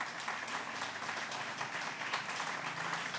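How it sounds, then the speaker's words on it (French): Audience applause for a choir at a memorial ceremony marking the anniversary of the 12 January 2010 earthquake: steady, dense clapping from a crowd, moderately loud and continuous throughout. "la chorale que je vous demande d'applaudir"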